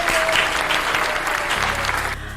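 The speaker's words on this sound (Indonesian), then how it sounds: "Tepuk tangan semuanya." Studio audience applause greeting a guest on an Indonesian talk show, dense and steady clapping close by, easing off slightly near the end.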